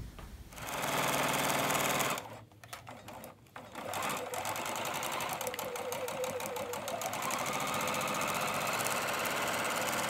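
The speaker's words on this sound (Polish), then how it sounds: "przeszywamy je w koło, zaczynając szyć odtąd w tą stronę" Fabric rabbit ears are stitched on a sewing machine that whirs steadily and close by, pausing briefly in the middle before running again in a continuous rhythmic hum to the end.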